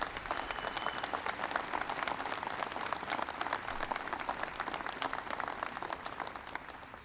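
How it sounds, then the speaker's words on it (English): An audience at the White House breaks into sustained applause, many hands clapping densely and steadily, quite distant and faint, fading slightly toward the end. "Give him a big round of applause."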